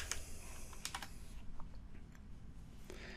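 Typing on a computer keyboard, a quick run of close, crisp key clicks in bursts with short pauses, fairly quiet and alone.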